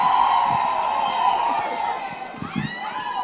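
A political meeting crowd at a grassroots leaders' gathering in Sagana, Nyeri County, keeps up a steady wash of applause and cheering with whistles and shouts, with a speaking voice over it near the end.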